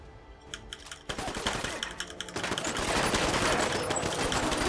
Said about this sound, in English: All right, I get it. You're a turret.